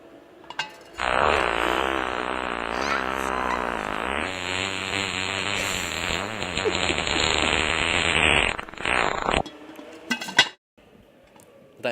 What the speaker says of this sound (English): It is the most powerful fart that I own.